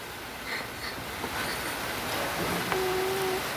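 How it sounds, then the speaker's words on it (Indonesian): Heavy rain pours over a garden fishing pond, a constant broadband wash of falling water with a faint tonal chirp near the end. "Hujan teman-teman, kita masih belum bisa mancing nih."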